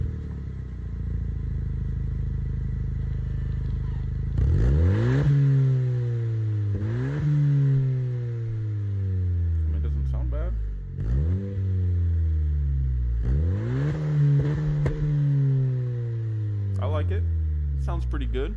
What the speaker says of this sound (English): 10th Gen SI with custom catback exhaust. Let's hear it. Borla XS muffler paired with Firebird resonator.